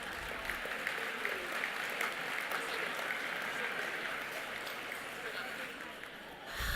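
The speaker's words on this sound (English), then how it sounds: "Let's give all of our students a big round of applause." A large crowd at a school district's 2019 State of the District event gives students a sustained, loud round of applause that holds steady for several seconds before easing slightly at the end.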